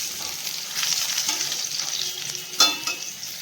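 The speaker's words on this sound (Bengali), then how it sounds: "যেহেতু এটা ভাজা মাছ, একটু ভালো করে না ভাজলে না খেতে ভালো লাগে না" Fish sizzling as it fries in hot oil, a steady crackling hiss with brief louder spatters near the end, close and without talk.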